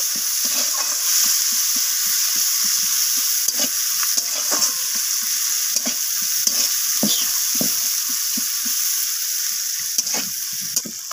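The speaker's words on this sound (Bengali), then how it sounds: "পেঁয়াজটা হালকা বাদামি রং ধরা পর্যন্ত পেঁয়াজটাকে আমি ভেজে নেব" Sliced onions frying in hot oil for a Bengali surmai fish curry, a steady loud sizzle with repeated scrapes and clinks of a spatula stirring throughout, close and without talk.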